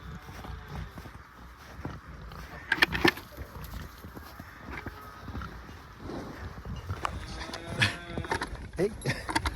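Cows in a barn on a cold winter evening give low, scattered moos amid shuffling hoof and footstep noise, moderately close, with intermittent bumps and movement throughout.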